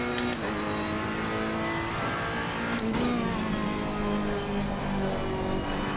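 A GT race car in Assetto Corsa Competizione at the Nürburgring, engine held at full throttle with a loud, continuous, rising roar and no pause throughout.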